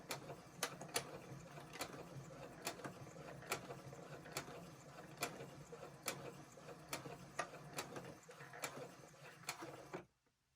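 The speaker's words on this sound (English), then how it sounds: "I'm just gonna back stitch all the way back" A sewing machine backstitches a seam on a fabric mask, its needle ticking in a steady mechanical rhythm with regular sharp clicks, close and fairly quiet, stopping abruptly at the end.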